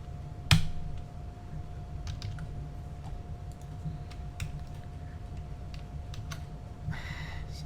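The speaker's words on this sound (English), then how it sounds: "I'm literally working on a really tiny keyboard" Tiny computer keyboard typed on, a sparse series of soft, close key clicks at irregular intervals over a faint steady hum, with one sharper tap near the start.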